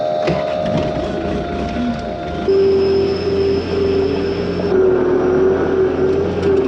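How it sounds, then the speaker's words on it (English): A skid steer loader's engine warms up on a cold day: a steady, fairly loud mechanical drone whose pitch steps up partway through and then holds, with no voices. "I'm gonna pull the skid steer loader out, let it warm up a little."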